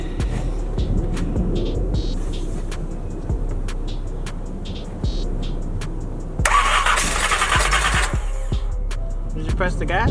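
A car engine, freshly fitted with a roller cam, catches and rumbles loudly, then climbs into a harsh, louder rev midway before settling back, with people talking nearby over it.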